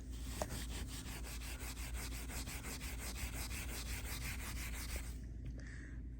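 Steel wool scrubbing rust off a motorcycle wheel on a Suzuki DRZ400, a steady rapid back-and-forth abrasive rubbing that runs continuously and close, then stops abruptly near the end.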